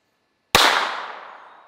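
A small revolver-style pocket pistol fires a single 27 grain bullet, one sharp, loud crack from near silence followed by a bright ringing decay.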